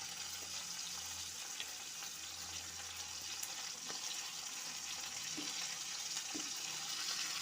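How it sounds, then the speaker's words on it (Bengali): Cauliflower and carrot pieces fry in hot oil, a steady, close sizzle with small pops and crackles running throughout. "এখন আমি সবজিগুলো একটা একটা করে ভেজে তুলব"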